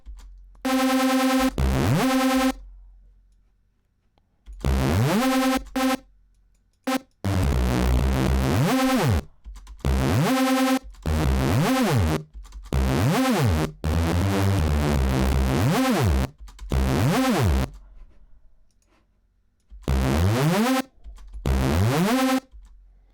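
Bitwig-built Reese bass synth playing short, loud phrases with gaps between them, its thick, detuned tone sweeping in pitch across the bursts, with no talking.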